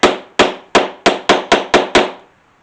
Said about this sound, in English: Grab your mallet, and you have to smack it pretty good a few times